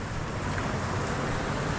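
Calm sea waves wash at the shore of a fishing spot in the Philippines, a steady broadband rush with wind noise buffeting the microphone throughout, no distinct breaking crests.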